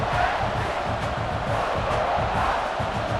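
Full-throated roar of a college football stadium crowd at a Clemson Tigers versus South Carolina Gamecocks game, a continuous loud wash of cheering and shouting that holds steady throughout.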